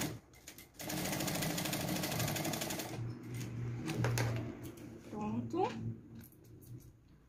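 A sewing machine stitching thick plastic, a close, steady mechanical whirring run for a couple of seconds followed by shorter bursts, with someone talking over part of it.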